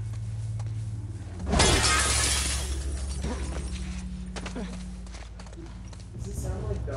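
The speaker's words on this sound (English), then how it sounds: "So break that window." Glass window smashed in The Last of Us Part II: a sudden loud shattering crash followed by tinkling debris, with low background tones and people talking before and after.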